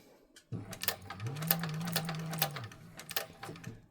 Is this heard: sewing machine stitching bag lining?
yes